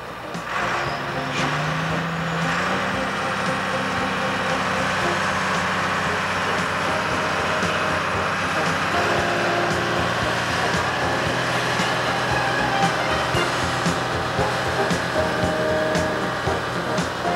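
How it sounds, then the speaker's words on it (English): A Deutz-Allis 9100 series tractor's air-cooled Deutz engine runs steadily under load while pulling a disc in the field, a loud continuous drone with a constant pitch throughout. "This Deutz air-cooled engine"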